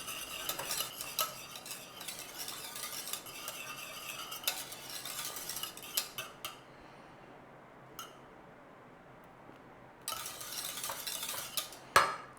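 Custard for a banana cream pie stirred in a pot as it thickens: continuous scraping and swishing of a utensil against the pot, pausing briefly midway, then resuming, with a sharp clink near the end.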